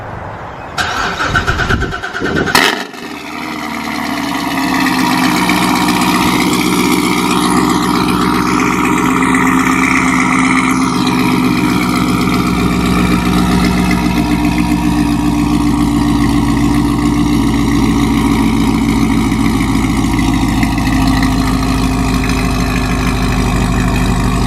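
A Corvette Z06 fitted with long tube headers and an AWE Black Diamond exhaust fires up on its first cold start, a brief starter whir and bark, then a loud, steady, deep idle that rumbles on unbroken.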